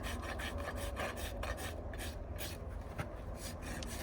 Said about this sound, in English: and now he's gonna trim Charlotte